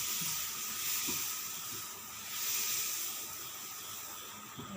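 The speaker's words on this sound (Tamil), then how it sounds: "அத்தை சாப்பிட்றதுக்கு தோசை ஊற்ற போகிறாங்க. ஊற்றுங்க அத்தை." Dosa batter poured onto a hot pan sizzles with a steady, fairly quiet hiss that swells gently midway and runs the whole time, with faint kitchen clatter beneath.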